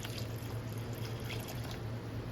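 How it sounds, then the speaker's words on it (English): A little water poured into a pan sauce while cooking, a soft steady trickle and pour with a faint low hum behind it, running evenly for a couple of seconds with no talking. "I'm gonna add just a little bit of water,"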